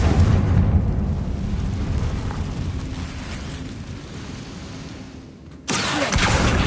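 Confringo spell explosion in the video game Hogwarts Legacy: a loud, broad rumbling boom that slowly fades, then a second sharp burst hits near the end, with no talk.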